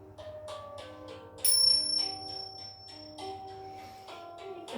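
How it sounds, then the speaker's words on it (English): Meditation bells ring out to close a session, several tones struck in sequence with long sustaining rings overlapping, one bright higher strike louder than the rest, all in a quiet room. "with the bells."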